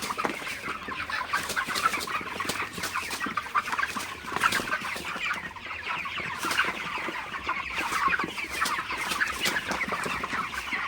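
Broiler chickens in a farm shed at night cluck and chatter continuously, many birds at once, at a moderate, close level.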